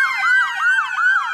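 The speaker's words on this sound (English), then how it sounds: "Sirens wailing in this Pompano neighborhood" A loud siren wails up and down in quick, repeating sweeps, close by and unbroken, in a Pompano neighborhood.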